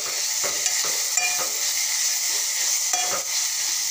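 Amaranth greens fry in a pan and are turned now and then with a spatula, giving a loud, steady sizzle broken by several soft scraping stirs, with no talking.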